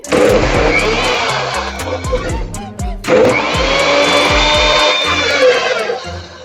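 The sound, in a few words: mixer grinder blending wheatgrass with water in juicer jar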